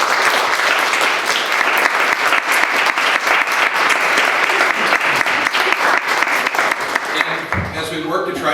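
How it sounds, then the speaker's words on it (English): An audience at a documentary screening panel about the Hmong secret war claps loudly for the panel, a dense, sustained patter that fades toward the end as the clapping thins out. "so let's give them a round of applause"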